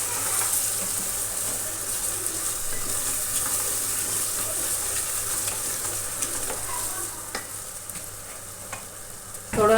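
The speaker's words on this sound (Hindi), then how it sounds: "तो चलिए अब हम इसकी अच्छे से बुनाई कर लेंगे मसालों की।" Chicken being stir-fried with korma masala and spices in a pan for Lahori murgh cholay, a steady close sizzle with frying crackle and stirring scrapes throughout, no talking.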